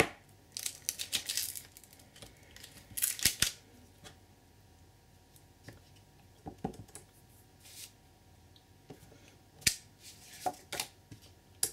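Several short, crisp snips and clicks come in scattered bursts, close and fairly quiet, like Tim Holtz scissors cutting out paper shapes with pauses between cuts.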